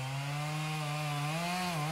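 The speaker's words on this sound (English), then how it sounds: "start up the chainsaw, and cut a notch out of the tree" A chainsaw runs steadily at high revs while cutting a notch into a standing tree, a loud continuous buzz with a slight dip in pitch near the end and no voices.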